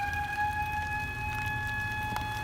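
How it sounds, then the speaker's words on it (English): Outdoor warning sirens sound during an ice storm in Seymour, Missouri, holding a steady wailing tone at a distance over a low background rumble, with no talking. "What are they sounding the sirens for?"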